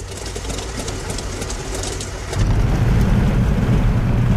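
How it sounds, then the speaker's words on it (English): A radial engine on an F6F Hellcat catching and starting in Microsoft Flight Simulator, cranking unevenly at first, then jumping about halfway into a louder, steady rumbling idle; close and loud, with no voices. "Got the Hellcat started."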